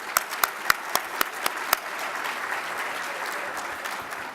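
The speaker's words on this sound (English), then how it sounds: "Let's give all of our sponsors a big round of applause." An audience at a city event applauds the sponsors: a few sharp, close claps stand out at first over a steady spread of clapping from the crowd, which continues evenly to the end.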